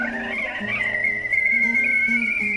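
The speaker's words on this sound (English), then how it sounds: "the kettle makes that sound" Barbie Dream House toy kettle giving an electronic whistle, a sustained high tone with a lower tone beneath it, close and fairly loud.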